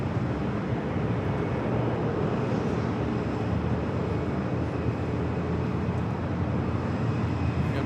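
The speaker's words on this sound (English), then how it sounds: "We have another takeoff" A jet airliner taking off at LAX fills the air with a steady, broad roar that holds at a constant, fairly loud level throughout, a dense rumbling wash with no speech over it.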